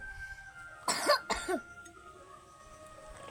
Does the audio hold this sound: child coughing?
yes